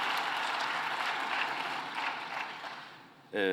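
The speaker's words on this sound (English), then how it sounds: "Please give a round of applause to my president" Applause from a conference panel audience at the SDG Centre for Africa Presidential Panel in Kigali rolls steadily and then fades, before a voice cuts in at the very end.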